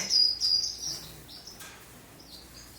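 Aviary birds chirping, a few thin high tweets near the start and then fainter chirps drifting in and out over a quiet background.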